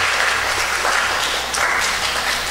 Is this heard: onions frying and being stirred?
no